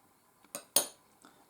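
A utensil clinks a few times against a bowl while natto is mixed with miso, carrot and cucumber, in short, quiet taps close by.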